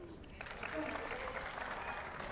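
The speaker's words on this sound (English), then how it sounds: "Big round of applause." Crowd applause at a pickleball championship match in New York City, a brief burst of clapping from spectators, moderately loud, with a voice talking over it.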